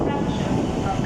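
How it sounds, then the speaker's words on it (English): A twelve-car double Class 395 Javelin high-speed train pulling into Stratford International station on HS1, a low steady rumble of rolling wheels close by. "arriving at Stratford International is the 1432 service to Ramsgate via Faversham"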